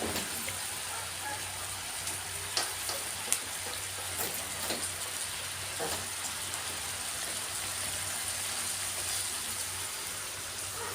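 Cucumber being stir-fried in a pan gives a soft, steady sizzle with occasional scrapes and clicks of the utensil, moderately close, no voices.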